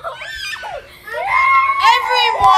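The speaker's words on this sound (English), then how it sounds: "Stop screaming." Shrill, overlapping screams and shouts from several people in a room, loud and close, with children's cries and frantic yelling mixed throughout.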